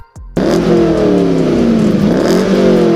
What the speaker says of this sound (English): I've had a few variants of exhaust on my C5. A Borla S-Type,